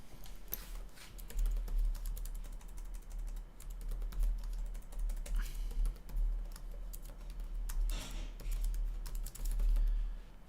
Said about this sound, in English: I'll start typing it now.